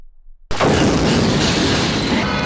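A bomb explosion in Belfast city centre bursts in suddenly after half a second of near silence, then becomes a loud, sustained roar of rumble and debris that fills the rest of the moment.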